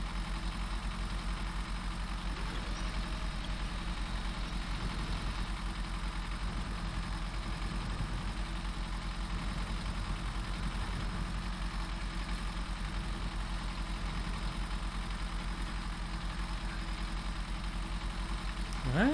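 Western Star 6900 truck idling in SnowRunner, a steady low diesel rumble that holds evenly throughout with no break, constant and fairly close.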